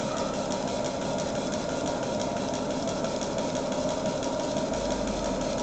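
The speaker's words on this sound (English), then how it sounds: "See the centrifuge going in there." An apheresis machine's centrifuge running, a steady, even mechanical hum and whir with a fine rapid texture, continuous and fairly loud throughout.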